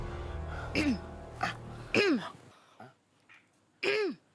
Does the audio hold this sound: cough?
yes